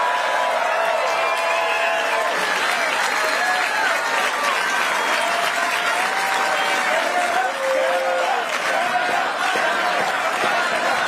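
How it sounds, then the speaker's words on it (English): A large crowd at a Canadian political rally applauding and cheering, dense continuous clapping with whoops and voices rising over it, loud and close, sustained throughout without pause. "The crowd is fired up."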